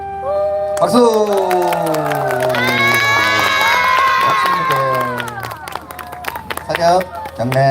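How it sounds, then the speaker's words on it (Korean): Audience at a children's ensemble concert in a forest setting cheers, shouts and claps loudly and continuously, with children's excited voices rising over the crowd for several seconds before the noise settles into scattered claps. "박수."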